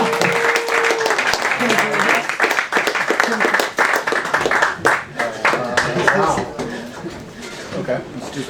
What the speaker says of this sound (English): Let's have a big round of applause for Wes Civilz